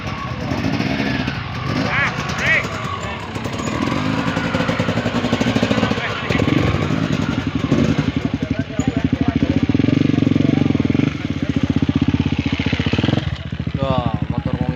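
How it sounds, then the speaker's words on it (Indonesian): A motorcycle engine labours while climbing a steep village hill, a loud, continuous rough drone with throttle surges, under voices talking and commentating. "Wah, motor mengitik banget ya."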